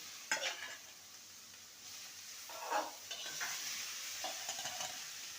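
Spice mix being sautéed with fried potato and snake gourd in a pan, a soft steady sizzle broken by a few brief scraping stir strokes, close and moderately quiet.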